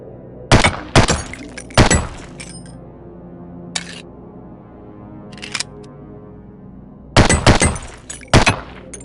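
Pistol shots fired in a failure drill on the SWAT 4 video game training range: sharp, loud cracks in quick groups of two and three, with a few lone shots and quiet gaps between them.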